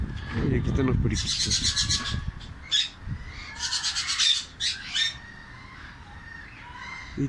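Parakeets squawk outdoors in bursts of harsh, rasping calls, some loud and near, coming in several clustered flurries with gaps between them, after a short stretch of rumbling noise at the start.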